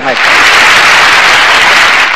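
Dense, steady applause from a mushaira audience in Cuttack, welcoming a poet to the stage, loud and sustained with no gaps.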